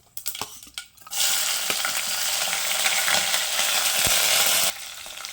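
Green chillies, dried red chillies and curry leaves hit hot oil just after mustard and fenugreek seeds have popped, for a Tamil pulicharu rasam. A loud, steady sizzle bursts in after a few light clinks, holds for about three and a half seconds, then cuts off abruptly.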